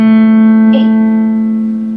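Piano sounding a held two-note chord from a beginner tango exercise, one steady sustained tone that slowly fades, with a faint brief click partway through.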